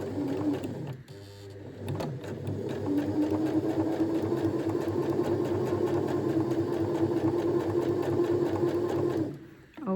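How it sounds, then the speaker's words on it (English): A sewing machine runs a continuous stitching line through fabric for a French seam, with a steady, close mechanical whir and rapid needle clatter after a brief start-stop, ending abruptly. "And then you start sewing over the back stitch."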